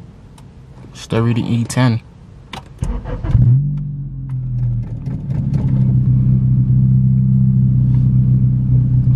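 A car engine cranks and catches, then settles into a steady rumbling idle running on E85 fuel, close and loud; someone speaks briefly just before the start.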